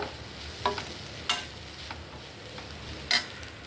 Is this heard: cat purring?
no